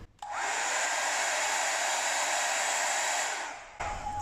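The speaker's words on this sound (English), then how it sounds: "You take the concentrator off and just blow that center paint in a straight line." A hair dryer with its concentrator nozzle removed blows steadily and loudly for about three seconds, pushing a line of paint through the centre of a Dutch pour, then cuts off abruptly.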